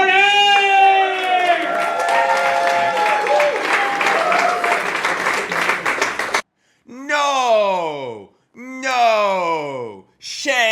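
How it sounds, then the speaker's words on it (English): A stand-up comedy audience claps and cheers densely for about six seconds, then the applause cuts off and a voice speaks in bursts. "Beautiful reaction from this crowd."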